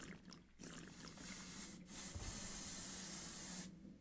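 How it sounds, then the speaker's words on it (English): Bug spray in the video game Ark Survival Evolved, long loud hissing bursts close up, several sprays separated by short gaps, with no talk over them. "Collective bug spray noises."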